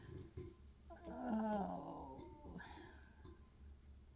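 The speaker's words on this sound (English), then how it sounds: "the neighbor dogs are going postal." Neighbor dogs barking and growling somewhat far off, a rising, drawn-out yowling burst followed by fainter barks over a low background hum, with a brief spoken exclamation.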